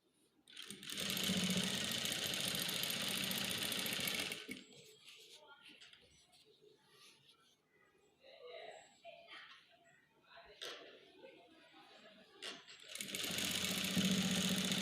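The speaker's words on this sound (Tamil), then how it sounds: "இது பிரிஞ்சு வராத மாதிரி ஓரமாக வந்து தையல் போட்டுக்கோங்க." A sewing machine stitching a cloth face mask runs in two loud, steady whirring bursts near the start and end, close by, with quiet rustling and faint voices in the pause between.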